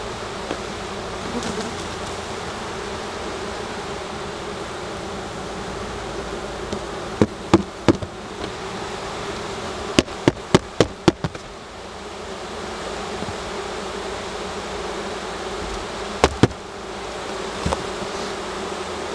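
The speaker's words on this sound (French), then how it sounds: "Donc j'apporte quand même une population importante de nouvelles abeilles." Honey bees buzz steadily at a hive during the introduction of a large new colony, a continuous dense drone broken by a few sharp knocks and taps of equipment.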